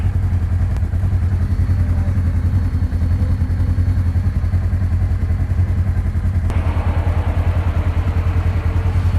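An ATV engine drones steadily at close range while leading a group tour through the Moab desert, with a continuous low rumble and occasional clatter from the machine bouncing over rough ground.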